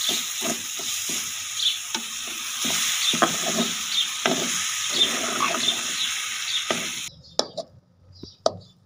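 A spoon stirs and mashes samosa filling with korma masala and finely chopped green chillies, giving scattered scraping taps and soft squishing close by, with a few sharper clicks near the end.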